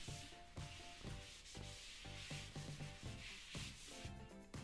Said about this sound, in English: I buffed off the excess oil with a cloth.